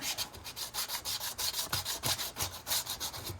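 Sandpaper rubbed back and forth in a quick, even rhythm, about a dozen close, scratchy strokes in a row with no talk.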